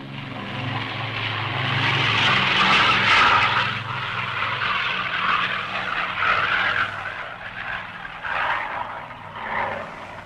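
Aircraft engines drone steadily before takeoff, a continuous loud roar with a low hum underneath, rising and falling slightly.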